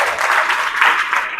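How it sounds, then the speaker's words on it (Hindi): Applause from students and staff at a school monthly test results ceremony for classes 11 and 12, a steady dense patter of many hands sustained throughout, moderately loud and close. "इनके लिए भी एक बार जोरदार ताली।"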